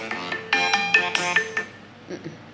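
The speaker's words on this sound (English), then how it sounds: "I have to turn off all my alarms because I made Alexa set an alarm." A phone alarm ringtone plays a bright, chiming melodic pattern of repeated tones for about two seconds, fairly clear and close, then fades.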